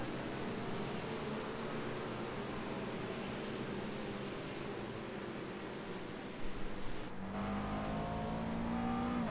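In a GT Open racing video game at Watkins Glen, a McLaren race car's engine drones steadily under road noise, then its pitch shifts and climbs as the car accelerates near the end.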